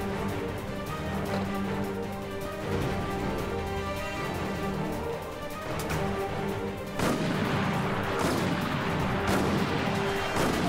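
Gunfire in the video game Resident Evil Operation Raccoon City sounds as repeated loud bursts and booms over a continuous game soundscape, with a heavier burst of shots toward the end.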